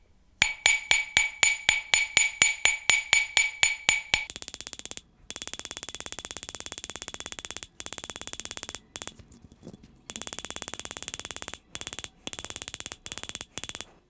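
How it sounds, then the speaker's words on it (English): Sharp metallic ball peen hammer strikes on a silver ring ring out close and clear, first in an evenly spaced burst, then in a dense rapid rattle with brief pauses. "hammering with this ball peen hammer, which creates really nice texture"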